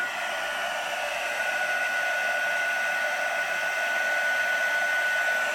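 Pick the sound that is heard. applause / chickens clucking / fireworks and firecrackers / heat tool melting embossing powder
heat tool melting embossing powder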